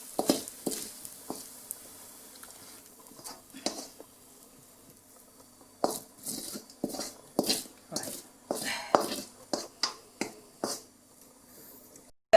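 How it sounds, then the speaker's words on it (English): Fried rice noodles scraped and tipped into a Pyrex dish, with a string of clinking, tapping utensil strikes against glass, sparse at first and then a quick run of close, distinct knocks. "Transfer it into the dish, Pyrex dish."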